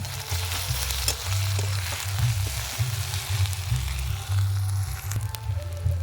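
Three green chillies and chopped onion crackle and sizzle in a pan, a loud continuous hiss broken by frequent spatula scrapes and sharp little pops.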